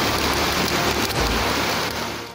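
Heavy torrential rain pouring down, a dense loud continuous hiss of drops on surfaces with a brief low rumble in the middle, no voices.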